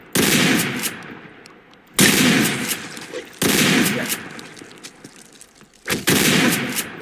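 Shotgun blasts ring out in the Roblox game Aniphobia: four loud, sharp shots spaced a second or two apart, each trailing into a rough decay.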